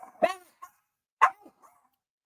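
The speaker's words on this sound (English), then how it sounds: "You're gonna have to deal with the dog barking." A pet dog barks in a home on a busy street: two or three sharp, moderately loud barks spaced apart, with quieter yips between them.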